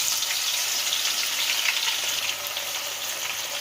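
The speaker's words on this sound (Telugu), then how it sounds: "ఇలా ఎర్రగా వచ్చే వరకు వేయించుకోవాలి" Garlic fries in hot oil for a tomato pickle until it turns reddish, a steady, close, hissing sizzle that holds evenly throughout.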